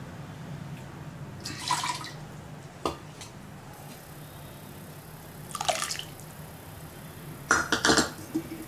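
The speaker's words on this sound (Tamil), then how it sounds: "புளி தண்ணியும் வந்து நம்ம ஊற்றிடலாம்." Tamarind water poured into a pot of sambar with dal and cabbage, heard as short splashing pours in three separate bursts amid faint kitchen clatter and a low background hum.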